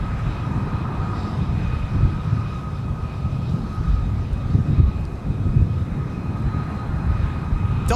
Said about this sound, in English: Currently beginning its taxi over to runway 12 right for departure in front of us.